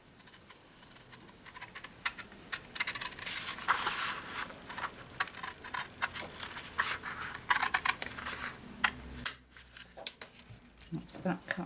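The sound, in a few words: long scissors cutting paper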